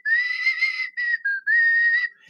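A melodic whistled tune, clear and close, in several phrases with short pauses between them, no one talking.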